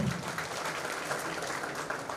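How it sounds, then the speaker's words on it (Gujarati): An audience at a police camp farewell ceremony gives a short burst of applause that sounds dense and moderately distant. "તેમને પણ તાળીઓનો એક સન્માન આપીએ આપણે"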